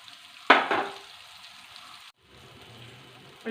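A sudden burst of frying sizzle as food hits hot oil, loud at first and settling into a steady crackle before a brief break and quieter bubbling.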